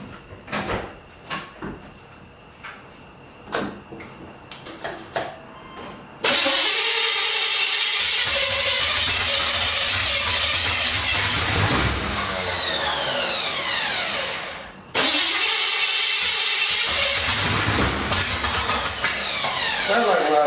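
A 1981 Pontiac Trans Am clicks and cranks, then fires into a loud, steady run. It cuts out after several seconds, then cranks and catches again right away.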